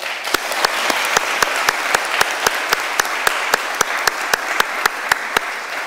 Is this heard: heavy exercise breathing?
no